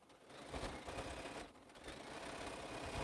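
A sewing machine runs in quick, close bursts during quilting, a rapid mechanical stitching chatter that rises and dips over a few seconds, with no talking.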